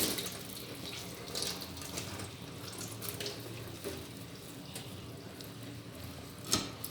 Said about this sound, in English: since we'll be needing just the back of this pineapple, we'll have to wash it and wash it really great